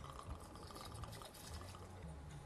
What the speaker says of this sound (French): Nous allons verser notre manzana verde